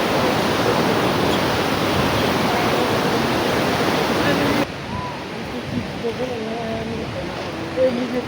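Rushing water at a waterfall stream at Sundarijal makes a loud, dense, steady roar close by that drops to a softer wash partway through, with faint voices underneath.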